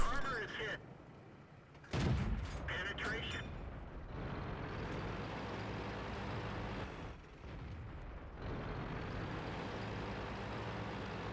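Heavy tank cannon fire in a World War II tank battle game, with a loud booming shot and rumbling engine and battle noise sustained underneath, while a player talks over it.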